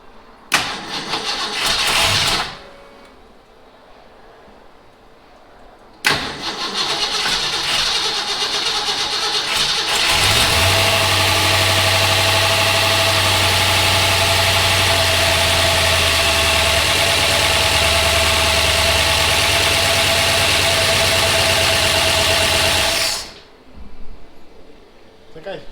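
A 1965 Lincoln's engine cranks in short bursts, catches and settles into a loud, steady idle that runs for over ten seconds before cutting off, heard up close with people talking around it.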